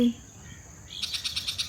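A bird calls on a morning outdoors, a rapid run of high repeated chirps entering after a quiet start and continuing steadily, moderately loud.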